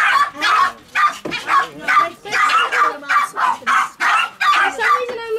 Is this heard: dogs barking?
yes